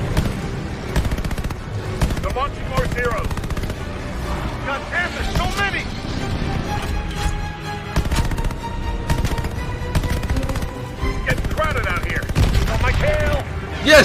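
Sustained machine gun fire rattles nearly nonstop through a loud video game air battle, layered with explosions, engine drone and music, while voices talk over the action.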